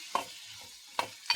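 Beans with turmeric stirred in a pan: a soft, continuous sizzle broken by three quick scrapes of a spoon, close and fairly faint, with no speech.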